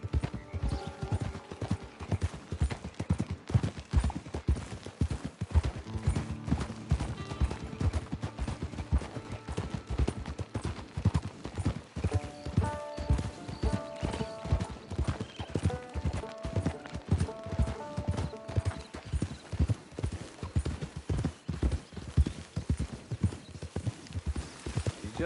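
Rhythmic horse hooves clip-clopping steadily in a video game, close and even for the whole stretch, with faint background music and occasional talk underneath.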